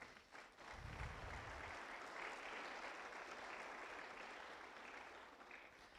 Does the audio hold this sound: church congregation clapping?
yes